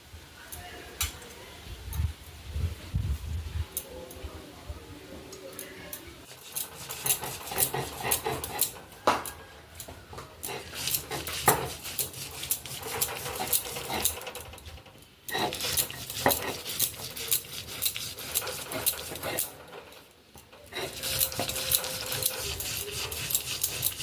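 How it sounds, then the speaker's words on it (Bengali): Khesari lentils ground into a paste on a stone, producing continuous close rhythmic scraping and grinding strokes over a long stretch, with a few brief pauses and faint background voices. "এবারে খেসারি ডালটা বন্ধুরা বেটে নিচ্ছি"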